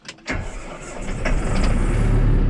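A farm tractor engine cranks and catches at once, a sharp start followed by a steady, loud, close idle rumble that builds and holds.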